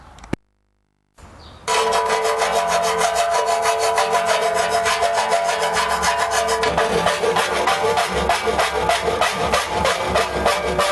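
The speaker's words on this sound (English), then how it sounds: "I'll get drilling these holes, chisel some stuff out" A steady, loud rasping of drilling and chiselling into wood runs continuously after a brief silent gap, with a faint rhythmic chatter.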